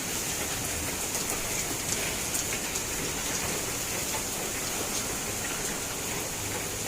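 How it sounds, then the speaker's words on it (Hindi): Heavy rain pours steadily, a dense constant hiss of drops hitting surfaces nearby, with no voices. "बहुत तेज़ बारिश हो रही है।"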